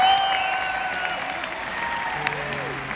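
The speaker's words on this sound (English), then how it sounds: "Give yourselves a round of applause, please." Concert crowd in Seattle applauding at a show, a broad wash of clapping and some cheering under sustained tones and lingering musical notes.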